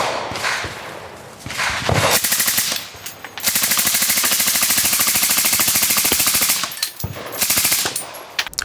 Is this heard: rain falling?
no